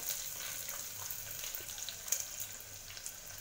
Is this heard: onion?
yes